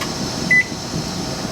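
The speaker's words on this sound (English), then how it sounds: "So I'm going to reset the timer." A single short electronic beep from a kitchen timer being reset on the stove during grape jelly canning, heard over a steady hum of kitchen ambience, with no voices.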